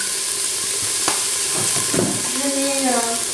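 Grated onion frying in olive oil in a heavy pot gives a steady close sizzle and hiss with a few stirring knocks. A voice murmurs briefly toward the end.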